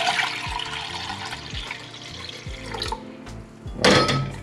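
Rice-washing water poured out of a pot into a sink while making kimchi jjigae, a steady splashing stream with a few hollow knocks and a louder rush near the end, close and with no talking.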